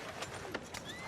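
Horse hooves clip-clop alongside a brief neigh in Red Dead Redemption 2, with several sharp hoof strikes over a steady game ambience at moderate level and no talking.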